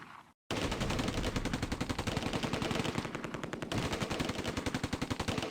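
Rapid sustained automatic gunfire in the video game Close Combat: A Bridge Too Far, loud and close, with dense overlapping bursts that briefly cut out near the start and then hammer on steadily.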